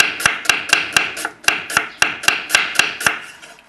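A knife julienning red onion on a cutting board: about thirteen crisp, evenly spaced chops in a steady quick rhythm, close and sharp, with no talk.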